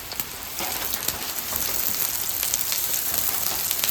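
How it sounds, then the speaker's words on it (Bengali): Rain falls steadily on a surface outside a small home, a dense hiss of drops that starts lighter and thickens after the first half second, then holds constant and close with no voices. "তাতে আবার বৃষ্টি নামলো।"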